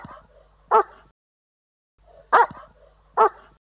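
A dog barks three times at close range with no other sound: one sharp bark, a pause, then two more in quick succession.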